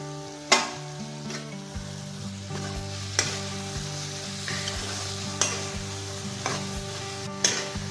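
Chopped tomatoes frying in spiced oil for a chicken curry with banana stem, a steady close sizzle with occasional sharp knocks and scrapes of a spatula against the pan, and a low hum beneath.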